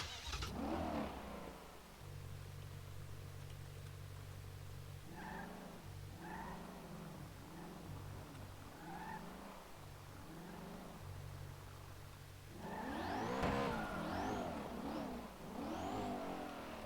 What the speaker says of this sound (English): God, I hate how this engine sounds.